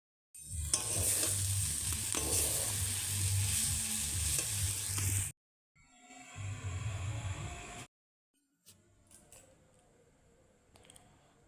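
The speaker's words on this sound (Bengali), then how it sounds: "তো পেঁয়াজটা ভেজে নিচ্ছি" Onion frying in a pan, with a loud close sizzle under stirring that breaks off twice into brief silence and returns, fainter at the end.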